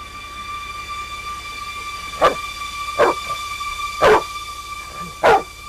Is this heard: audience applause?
no